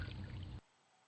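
Splashy plunge sound effect from a digital sound library, a loud watery burst for about half a second that cuts off abruptly into near silence.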